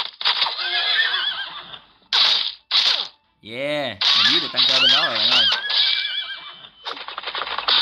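Game horse lets out a long, warbling neigh amid bursts of combat effects and clicking sounds, while someone talks excitedly over the action.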